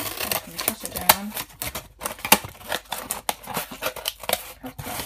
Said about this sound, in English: Oh, this is such a big piece of card. It's really hard to cut. I'm going to cut it down.